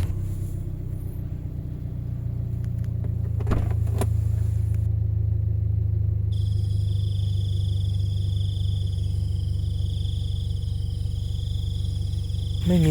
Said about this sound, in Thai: ขอ สตาร์ท รถ ไว้ก่อนเผื่อ มีอะไรเกิดขึ้นผมจะได้หนีทัน